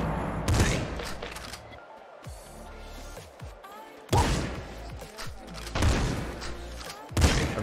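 Bullets firing in the top-down shooter Nuclear Throne: loud bursts of rapid shots with booms, in several waves a second or two apart, with quieter stretches of game noise between them.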